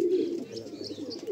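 Male pigeons in a loft give a low, rolling coo, close and continuous through a short moment.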